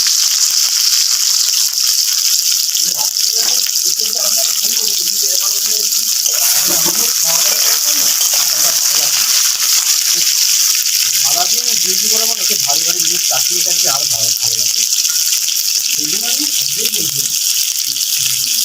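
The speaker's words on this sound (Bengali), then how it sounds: "আলুর সাথে পটলগুলো ভেজে নেবো" Steady hiss of potatoes and pointed gourd frying in hot oil runs throughout, with a voice talking intermittently over it.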